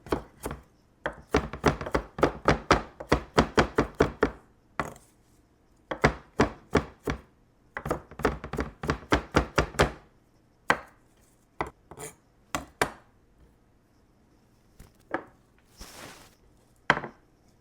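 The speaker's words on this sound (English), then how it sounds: "Chop that up." A knife chops parsley on a cutting board in quick, crisp bursts of rapid taps, pausing between runs and then slowing to sparse single chops near the end, close and alone.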